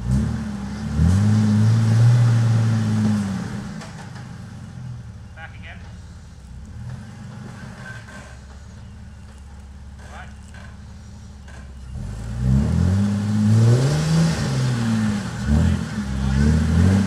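A Jeep engine working through an off-road climb in the Watagans, giving a loud, close rev that eases to a low idle and then revs again, with people talking throughout.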